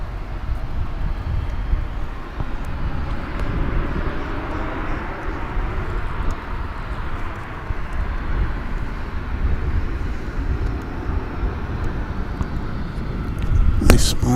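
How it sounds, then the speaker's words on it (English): A FedEx MD-11 jet at DFW International Airport gives a steady, broad engine roar that holds loud and even throughout, with a sharper burst near the end. "That's a FedEx MD-11, I believe"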